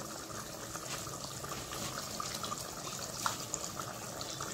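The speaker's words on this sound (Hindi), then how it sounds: "थोड़ा पानी डाल के धो के डालेंगे इसको।" Water pours steadily into a bowl to rinse out leftover almond paste while cooking mutton korma at home, a constant close splashing hiss with no talking.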